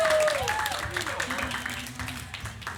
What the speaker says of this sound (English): let's give Sabrina a big round of applause.